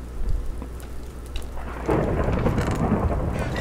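Rolling thunder from lightning during a rainstorm in the Minecraft video game, a low rumble under steady rain that swells louder partway through, with no talking.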